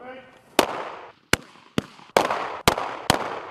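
Gunshots at a civilian firing range in Germany ring out as six sharp, loud reports spaced unevenly about half a second apart, each trailing into a short echo, with a voice talking at the start.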